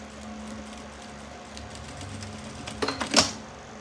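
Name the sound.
sewing machine stitching a crossbody bag seam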